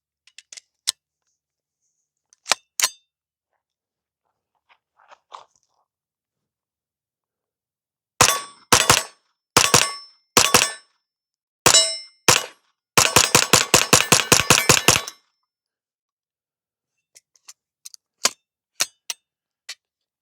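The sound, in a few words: AR-9 pistol-caliber rifle firing doubles then emptying the magazine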